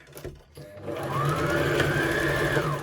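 Domestic sewing machine stitching elastic onto fabric for a tiered maxi skirt, a steady close whirring motor hum with rapid needle rhythm running continuously after a brief start.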